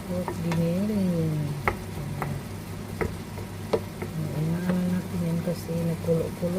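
Pork giniling with potato simmers and sizzles softly in a pan while a person talks over it, with a few sharp taps and clinks scattered throughout.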